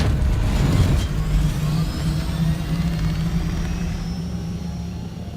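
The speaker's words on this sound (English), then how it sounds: "I wanna test out my thruster to see how fast this bad boy is." Vehicle thruster in the Dune Awakening video game: a loud, continuous engine roar with a rising whine on top, strongest at first and holding steady as the craft speeds along.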